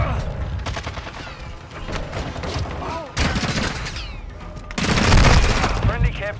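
Rapid video game gunfire in a Call of Duty–style multiplayer match, dense bursts of automatic fire and booming shots layered over game voice callouts, growing louder near the end.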